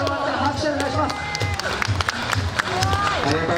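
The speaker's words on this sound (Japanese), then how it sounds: "皆さん、わあすごい頑張ったら拍手お願いします。" A live audience applauds and cheers after a performer spins 180 degrees on a slackline, clapping continuous and fairly close amid crowd noise.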